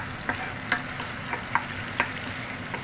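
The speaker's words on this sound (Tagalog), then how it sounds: "Fried lang natin yung ating onions" Onions frying in a pan, a steady close sizzle with a few soft stirring scrapes or clinks spaced through it; no voices.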